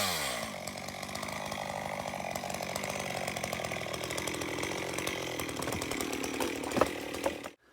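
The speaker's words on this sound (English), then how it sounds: "Mine today is cutting firewood out of olive." Chainsaw cutting olive firewood, the engine running loud and continuous as the blade bites through the wood, pitch shifting under load, then cutting off abruptly at the end.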